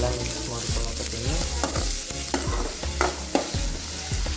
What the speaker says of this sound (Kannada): ಉಳ್ಳಾಗಡ್ಡಿ ಹಾಕೊಂಡು ಹೊರಗೆಲ್ಲ ಮಿಕ್ಸ್ ಮಾಡ್ಕೊಳಕತ್ತೀನಿ